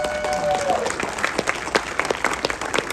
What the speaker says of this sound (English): Can we give Warren Stowe a round of applause?